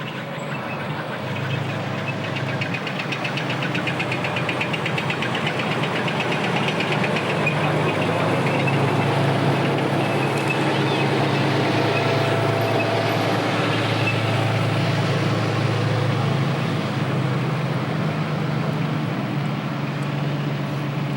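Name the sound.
M60 Patton battle tank driving in a parade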